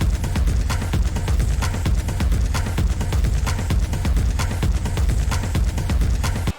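Pulsating techno beat, dense and loud, with relentless driving percussion and heavy low end filling the whole stretch without talk.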